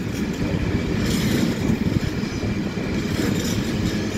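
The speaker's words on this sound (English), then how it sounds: "And in the background is 220009 Cross Country Class 220 Voyager Cross Country trains" CrossCountry Class 220 Voyager unit 220009 pulls out of Stockport station with a steady, loud rumble of diesel engines and rolling wheels that holds through the whole stretch, with no voices over it.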